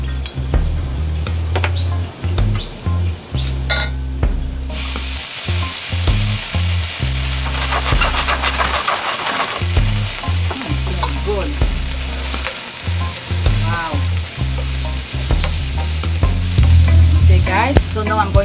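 Brandy poured into a pan of caramelized garlic and onion, setting off a loud, continuous sizzle with stirring and occasional pan knocks throughout, close up and without talk.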